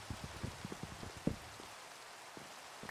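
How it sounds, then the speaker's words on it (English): Rain in the Minecraft modpack Sky Factory 3 falls steadily and softly, with scattered light patters and a few closer droplet taps over the hiss. "Hopefully the rain lasts."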